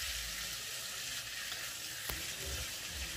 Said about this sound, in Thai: พอกระเทียมหอม เราก็ใส่หมูลงไปผัด ผัดกับกระเทียมนะคะ